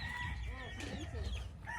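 Chickens cluck and a rooster crows in a backyard coop behind a house, heard faintly through a short stretch of layered, overlapping calls.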